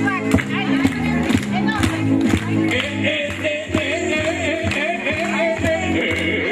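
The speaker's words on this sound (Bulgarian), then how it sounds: "а гостите да пляскат на влакчето" Guests at a kindergarten opening in Tlachene clap along while children walk in a train game, a steady lively rhythm of applause mixed with crowd babble and voices talking loudly over it throughout.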